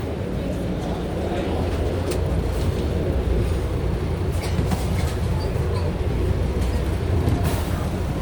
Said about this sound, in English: We're currently on the train